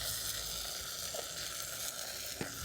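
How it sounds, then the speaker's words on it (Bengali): Spice paste of ground coriander, cumin, ginger, green chilli and garlic sizzles in a pan with potatoes for a katla fish curry, making a faint, steady frying hiss with a couple of soft scraping touches. "এবার সমস্ত কিছু মশলাগুলো আমি একসঙ্গে ভালো করে খুব ভালো করে কষিয়ে নেব।"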